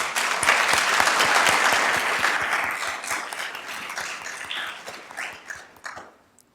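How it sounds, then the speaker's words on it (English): Audience applause at a leadership summit, a dense burst of clapping that swells loudly at the start and then gradually thins and fades out over several seconds, with no voices over it. "Let's give them a round of applause."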